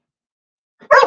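Dog barking indoors: one short soft yip followed by a single loud, close bark at the very end after silence.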